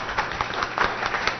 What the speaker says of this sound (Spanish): Vamos a brindarle un fuerte aplauso.